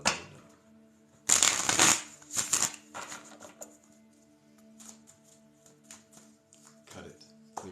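Tarot deck being shuffled and cut at a reading table, a burst of riffling and sliding cards followed by a few softer shuffles and scattered taps, with faint room hum underneath.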